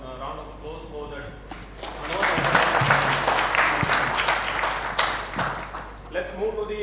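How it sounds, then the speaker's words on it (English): A room full of people at a national tuberculosis conference claps steadily for several seconds, dense and even, with a voice speaking briefly at the start and end. "a round of applause for the"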